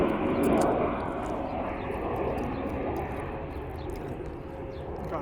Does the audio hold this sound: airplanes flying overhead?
yes